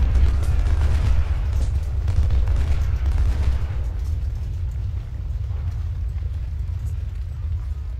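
Cannon fire in the Civil War strategy game Ultimate General: Civil War, heavy low booms rumbling continuously and thickly layered for several seconds, loudest at the start and easing slightly later on.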